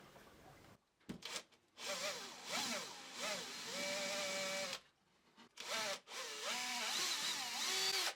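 A power drill bores rivet holes in leather for an axe sheath, whining in several short bursts with rising and falling pitch and brief pauses between holes, close and clear.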